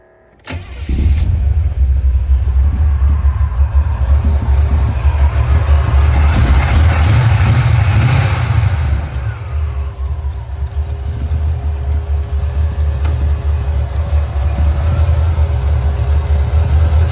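A car engine cranks and catches after a short silence, then settles into a steady, loud idle that runs on alone, warmed up and ready for setting ignition timing.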